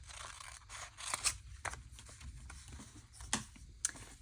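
Scissors cutting folded paper during a craft project, heard as quiet, scattered snips and crisp crunches with small rustles between them, close and faint, with no voices.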